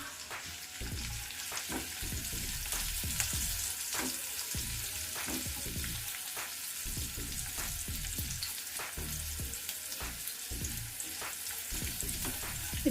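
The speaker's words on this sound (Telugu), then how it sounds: "మిరపకాయలు కలర్ మారే వరకు వేయించుకోవాలి." Red chilies and cumin seeds frying in oil in a pan, a steady close sizzle with repeated soft stirring scrapes throughout, no voices.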